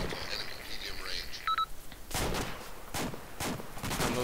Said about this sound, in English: I'm launching grenades into this guy.